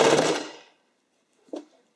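A sewing machine stitches a spandex sleeve through four layers in a short whirring burst that fades out, followed by a faint brief click.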